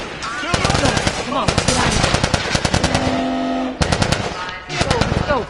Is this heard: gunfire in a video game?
yes